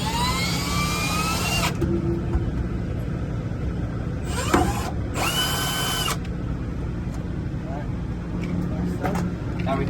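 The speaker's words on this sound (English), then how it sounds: "we're gonna drill out 2 mounting holes right over the beam here" A power drill with a number 19 bit bores mounting holes through a vehicle's beam, whining steadily and loudly throughout, with bursts of higher-pitched screeching as it cuts, while someone talks over it.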